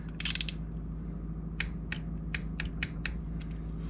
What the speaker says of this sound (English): Got my little torque wrench set up here. We're just gonna snug them up